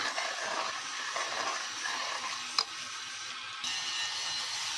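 Egg masala curry with kasuri methi being stirred in a pan, a steady soft sizzle with quiet scraping and one brief clink of the spoon, no voices.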